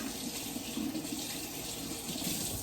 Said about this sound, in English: I'm gonna rinse them right now in some warm water.